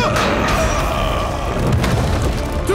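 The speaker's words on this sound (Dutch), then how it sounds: "Ram die poort omver, grote jongen." A battering ram crashing against a castle gate in an animated Playmobil Novelmore episode, a loud, dense rumbling boom with impacts blended into continuous heavy noise throughout.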